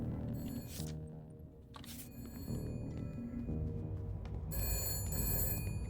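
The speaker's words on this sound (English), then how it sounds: "I'm not picking up this phone, it's for me." A telephone rings in the detective video game Shadows of Doubt, with bright electronic bell bursts repeating at intervals over a low, humming ambient background. No one speaks.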